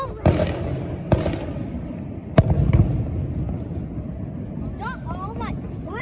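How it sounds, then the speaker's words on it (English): A July 4th fireworks show in Bethlehem, Pennsylvania, sends a few sharp, widely spaced bursts booming at a distance over constant wind and crowd murmur, while people talk nearby. "Why are there so many fireworks?"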